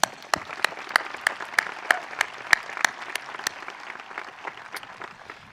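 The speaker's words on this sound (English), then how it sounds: "Students, please, let's give our support groups a big round of applause" Sustained applause from a large audience at a high school commencement, with distinct loud claps popping out from the steady clapping, continuing evenly for several seconds.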